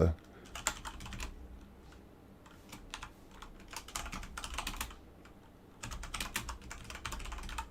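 Typing on a computer keyboard during a Delta IV Heavy launch webcast, heard as quick bursts of close, crisp key clicks separated by short pauses, with faint background noise.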